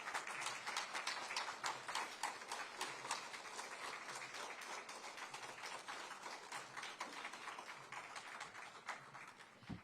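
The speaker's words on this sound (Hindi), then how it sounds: "सो गिव योरसेल्फ ए स्टैंडिंग ओवेशन, जोर से जरा खड़े होकर तालियां जोरदार" Audience in a motivational session giving a standing ovation, dense continuous clapping from many hands for about ten seconds, fairly distant and quiet with a hall-like spread.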